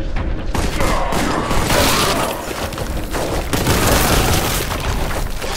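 Enemy gunfire rains on the player in Warhammer 40,000: Boltgun, a loud, dense and continuous barrage of shots mixed with heavy booms, filling the whole stretch with almost no pause.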